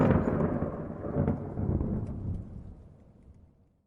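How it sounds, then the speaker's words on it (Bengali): A deep, rolling thunderclap rumbles loudly in a cartoon storm with lightning over a village, booming heavily at first and then fading away over a few seconds, with no voices. "আকাশ তখন ক্রমশ ঢেকে যাচ্ছে এক তামাটে ধোঁয়াটে কালো রঙে, সঙ্গে বিদ্যুৎ আর বজ্রপাত"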